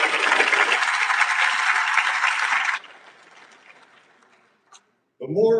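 An awards-ceremony crowd claps loudly and steadily for nearly three seconds before stopping abruptly, followed by quiet room tone, and a voice starts speaking at the end.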